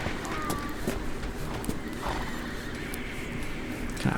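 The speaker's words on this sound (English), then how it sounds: "You want to buy a horse?" A horse in the No Time video game whinnies while its hooves clip-clop in a steady, uneven patter, with other game noise in the background.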